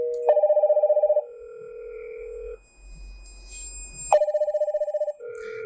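A Hikvision second-generation modular intercom rings out loud and close in two bursts of rapid trilling electronic tone, each followed by a steady lower tone, with a quiet gap between them.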